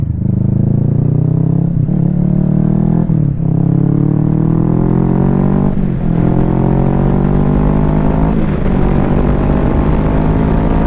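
Kawasaki Ninja 650 motorcycle engine heard from the rider's position while on the move, a loud continuous parallel-twin drone climbing in pitch through the revs, with brief dips at each gear shift before it pulls again.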